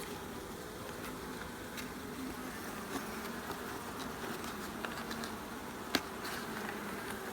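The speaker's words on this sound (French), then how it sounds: "Et elles font également le rappel sur les cadres, comme ça elles battent des ailes." Honeybees from a queenless colony buzz and fan their wings across a pulled hive frame, a dense continuous drone with occasional individual bees zipping close past, steady and moderately loud with no speech.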